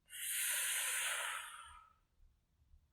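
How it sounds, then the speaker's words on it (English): One slow, airy breath is drawn in through the mouth during a guided meditation. It is close and soft and tapers off, with no talking. "Breathing through the mouth on the in and relaxing on the out."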